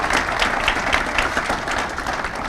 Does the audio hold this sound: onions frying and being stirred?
no